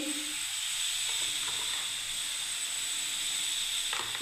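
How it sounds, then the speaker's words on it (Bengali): Masala spices with chilli, coriander powder and salt fry steadily in a pan for gravy, a close continuous hiss and sizzle with faint stirring scrapes and no talk. "মশলাটাকে আমি এবারে কষতে থাকবো ভালোভাবে, গ্রেভি বানাচ্ছি বন্ধুরা"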